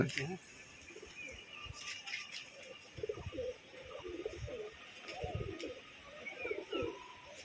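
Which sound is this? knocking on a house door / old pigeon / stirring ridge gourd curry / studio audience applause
old pigeon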